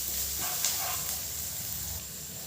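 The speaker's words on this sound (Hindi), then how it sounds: "अब हम इसको थोड़ा सा फ्राई करेंगे।" Ginger and garlic frying in a pan, a steady soft sizzling hiss that is fairly quiet and continuous, heard up close with no talking.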